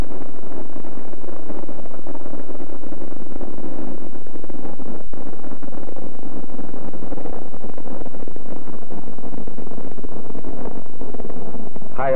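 Apollo Saturn V rocket engines at launch produce a dense, continuous low roar, heavily saturated and overpowering throughout, like distant thunderous rumbling with wind-like buffeting.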